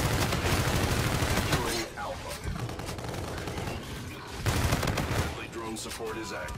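Rapid automatic fire from the Karma rifle in the shooter Infinite Warfare, two dense bursts of loud crackling gunfire separated by a quieter stretch of battle noise.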